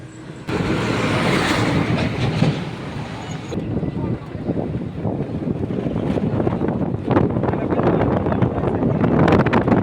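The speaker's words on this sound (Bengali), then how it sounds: "মুখ দেখতে পাওয়া যায় যে এই মুহূর্তে ট্রেনটি চলে গেল" A train passes on the old Farakka barrage in Murshidabad, heard as a loud, continuous low rumble mixed with heavy wind buffeting on the mic from a moving e-rickshaw.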